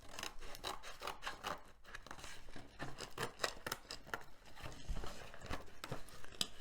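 Scissors cutting through stiff card for wind turbine blades, a quiet run of crisp snipping and rasping strokes in an irregular rhythm, close up and alone.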